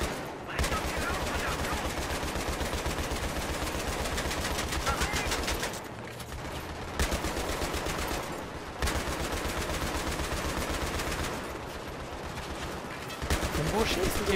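Gunfire rattles through a Battlefield 3 co-op match, with long bursts of rapid automatic fire broken by a few brief pauses, loud and close throughout.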